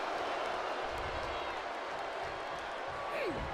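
Crowd cheering and applauding in the WWE 2K24 wrestling video game: a steady, even roar of arena noise fills the whole moment, fairly faint and continuous with no distinct claps standing out.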